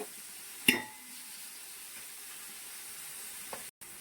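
Onions frying in a pan at home for biryani, a steady soft sizzle throughout with one sharp utensil clink near the start and a faint knock toward the end.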